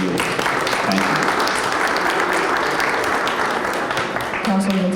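Sustained applause from an audience at a press conference honoring Director Pender, dense clapping filling the whole stretch with a voice faintly audible over it near the end.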